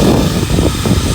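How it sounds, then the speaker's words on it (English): White and gold hairdryer running: a short burst of loud, steady, rushing airflow with a low motor roar, heard close and alone. "Looks very much like a well-known brand out there of hairdryer."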